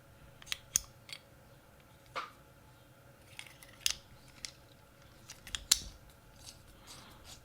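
A titanium and stainless steel bolt-action pen clicks crisply several times, sharp isolated metallic snaps scattered irregularly over a quiet background, close to the listener.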